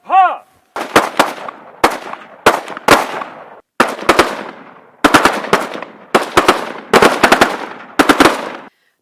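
Soldiers of the Border Security Force fire guns with live cartridges during practice at a camp in Jaisalmer, loud bursts of sharp shots in quick clusters with brief gaps between volleys, no talking over them.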